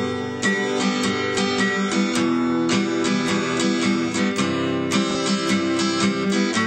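Guitar chords are strummed in a syncopated pattern, steady bright strokes with offbeat accents repeating in a dense, continuous rhythm, played alone without talk.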